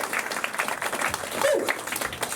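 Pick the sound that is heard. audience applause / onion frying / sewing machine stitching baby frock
audience applause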